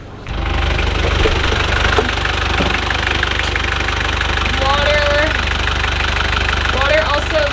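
A sailboat's inboard engine idling in the engine area, a loud, steady, close knocking chug that runs throughout, with faint voices in the background.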